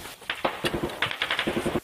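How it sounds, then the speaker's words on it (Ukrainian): Bursts of heavy machine gun fire in the eastern Ukraine conflict zone, rapid repeated thuds in short volleys, somewhat distant and muffled. "Стріляє з крупнокаліберних кулеметів."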